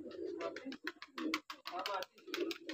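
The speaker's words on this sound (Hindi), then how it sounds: "ये देखिए इस तार पे बैठते हैं कबूतर सब" Village pigeons perched on a wire coo in soft, repeated throaty calls nearby, with a voice talking over them and some chirps.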